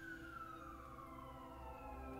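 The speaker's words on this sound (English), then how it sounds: "an ambulance is going by right now" An ambulance siren passes at a distance, a steady faint wail sliding slowly downward in pitch as it goes by under a low background rumble, with no talk.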